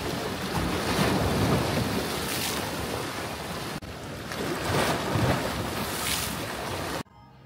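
Loud, continuous surf pounds against seaside resort decking in Malta, waves rolling and crashing in two broad swells with wind rumbling across the microphone, ending abruptly.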